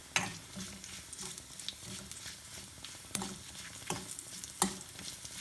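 Grated coconut heating and being stirred in a pan for Kerala chutney, a soft close sizzle with scraping stir strokes and a few sharper clacks against the pan.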